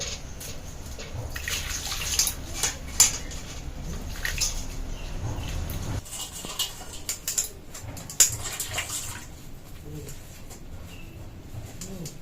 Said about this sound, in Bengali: পাতাগুলোকে এভাবে লবণ দিয়ে ধুয়ে নিতে হবে।